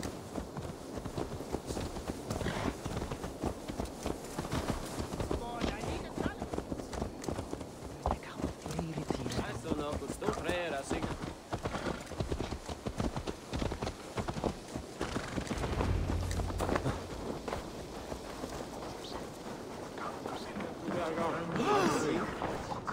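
Horse hooves clip-clopping in Assassin's Creed Valhalla, a steady run of hoofbeats under near-constant talk and game music, with a brief whinny.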